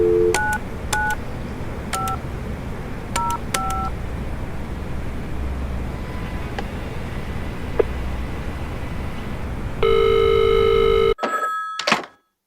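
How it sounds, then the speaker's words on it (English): Touch-tone dialing on a payphone fitted with a rotary dial, a quick run of paired DTMF beeps in uneven groups over steady background hum, followed by longer held tones and a final burst of tones at the end. "the payphone that has a rotary dial on it,"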